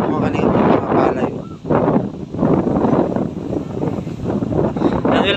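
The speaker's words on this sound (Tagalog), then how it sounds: "Lakas ng hangin dito, mga kalingap." Strong wind sweeps across open rice fields ahead of rain, buffeting the microphone in loud, uneven gusts that surge and dip repeatedly, close and rough throughout.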